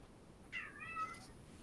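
A pet cat indoors gives a single faint, drawn-out meow, rising then falling, alone in a quiet room.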